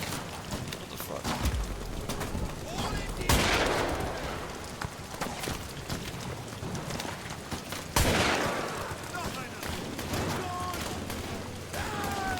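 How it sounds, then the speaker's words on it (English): Enemy soldiers firing guns in Amnesia: The Bunker, with bursts of shots, two sharp loud cracks standing out, over a rumbling, noisy game background. "There's men and they're shooting me."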